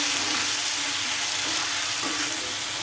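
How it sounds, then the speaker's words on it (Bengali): Prawns frying in a pan give a loud, steady sizzle that hisses without a break from start to finish, with no voices over it. "এই যে ওর জন্য এখন আবার চিংড়ি মাছ রান্না করতেছি"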